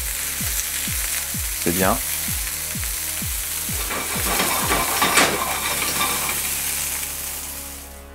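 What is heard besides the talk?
vegan meatballs frying and sizzling in a pan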